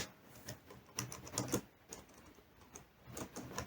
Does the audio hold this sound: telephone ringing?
no